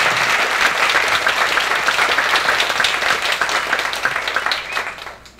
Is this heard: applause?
yes